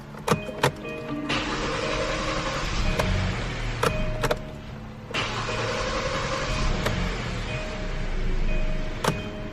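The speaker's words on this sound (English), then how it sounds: "it takes a while for the engine to crank, or the engine to start" A 2015-2020 Kia Optima with a camshaft position sensor B circuit fault and check engine light on cranks slowly before starting, with two long drawn-out cranking stretches and sharp clicks and knocks between them, heard close up.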